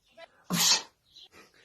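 A single sharp sneeze bursts out close by, preceded by a brief intake of breath and followed by soft murmuring.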